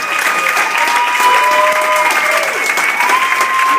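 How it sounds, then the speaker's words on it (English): A live show audience gives a loud, sustained round of applause at the end of the performance, with crowd cheering and music tones running underneath. "Give me a round of applause, guys."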